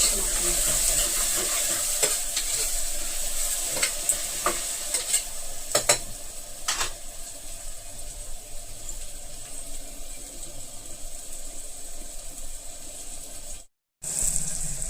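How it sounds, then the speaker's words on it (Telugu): Onions sizzle steadily in a pan while being fried for mutton curry, with a broad hiss throughout and a burst of clattering stirring in the first seven seconds before the sound briefly cuts out near the end. "ఇప్పుడు ఇలాగా ఆనియన్స్ ఎర్రగా వేగినాయి కదా"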